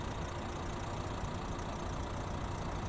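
A steady, low diesel idle from a 2010 Nissan Qashqai+2 1.5 dCi drones on evenly with no change in pitch or loudness, heard from nearby with no voices.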